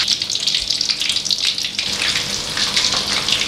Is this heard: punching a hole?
no